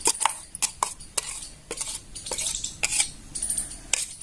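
A spoon scrapes and clinks against a bowl while green shrikhand is stirred and mixed, giving a quick irregular series of sharp metallic taps with soft wet scraping between them, close and clear with no talking.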